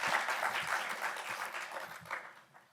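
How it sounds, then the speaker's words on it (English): Conference audience applauding the first speaker, Johan from Wisconsin Madison, at a talk on advertising privacy; dense steady clapping from a crowd that gradually fades over a few seconds. "Please give him a round of applause."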